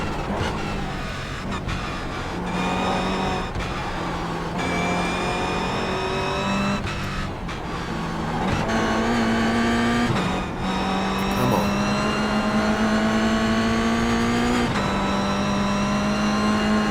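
A sim racing game car engine drones close and loud through a lap, its pitch climbing and falling repeatedly as it shifts and brakes through corners, with brief skidding and tire noise between the pulls.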